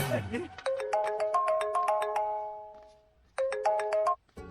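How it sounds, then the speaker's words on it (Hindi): A bright electronic ringtone plays a repeating melodic pattern, pausing briefly before starting again, with a voice heard faintly at the start. "आपको किसी का फोन आ रहा है।"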